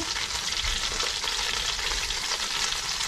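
Garlic fries in hot oil in a pan with a loud, continuous crackling sizzle that holds steady throughout, with no talking.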